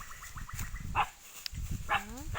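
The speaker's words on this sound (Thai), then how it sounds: "หมามันจะไปเห่ามันนะ" Outdoors near two water buffalo, a dog gives a few sharp barks and yips between steady animal and ambient noise, moderately close, with no voices.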